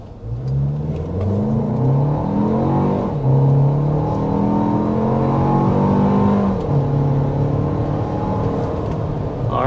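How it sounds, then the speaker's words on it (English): A 2026 Toyota Grand Highlander under hard acceleration to 60 mph, the engine note climbing steadily through a few gear changes, heard from inside the cabin as a loud, continuous drone. "there is our acceleration to 60 miles per hour with the Grand Highlander."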